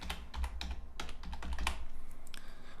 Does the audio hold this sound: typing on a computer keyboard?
yes